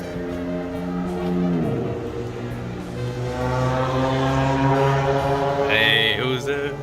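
A Fiat car passing nearby, engine tone rising and shifting as it approaches and goes by, with a higher whine toward the end.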